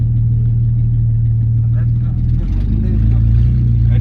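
A 1.4 Opel Corsa idles with a low, steady, choppy exhaust rumble, briefly shifting pitch midway, while voices talk over it.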